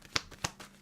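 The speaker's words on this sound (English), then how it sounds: "Let's shuffle up another card." Tarot cards shuffled in two quick crisp bursts, fairly close and moderately quiet, with a fainter riffle near the end and no talk over them.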